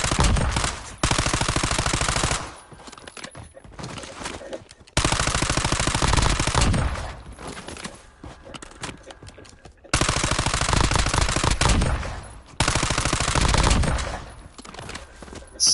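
Sustained automatic gunfire in Call of Duty Warzone rattles in long, loud bursts of a couple of seconds each, with short quieter gaps of distant shooting between them.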